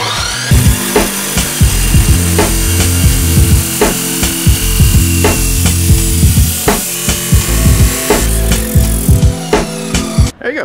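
A Miata part being cut down to shorten it, with loud, close, rhythmic rasping strokes that repeat steadily with no pauses and no talking.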